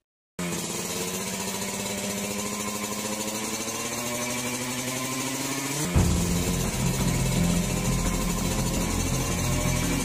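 A motorcycle engine idles steadily nearby with a buzzing, even drone, then shifts abruptly to a rougher, throatier note partway through; no one speaks.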